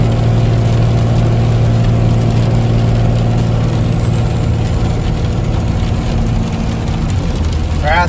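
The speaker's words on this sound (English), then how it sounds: "Alright, let's shift it into 6th, about 55 mile an hour." A diesel truck engine runs at steady highway speed near 55 mph, a loud continuous low drone with only a slight dip as it shifts into sixth gear.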